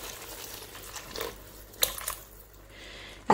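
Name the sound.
pouring water into cooking pot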